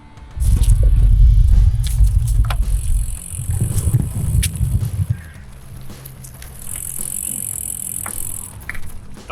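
A bicycle rolls along a Kyiv cycling route with a rattling, rumbling ride over the surface. The noise is heavier at first, then eases, with scattered clicks and jangles and no talking.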